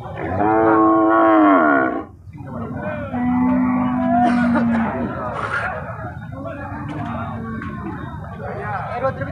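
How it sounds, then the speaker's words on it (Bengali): At the Boalia cattle market, an American Brahman calf gives a loud, close, drawn-out moo, then lower calls follow amid nearby voices and crowd chatter. "আজকের হাটের সেরা বাছুর আমেরিকান বাহামা।"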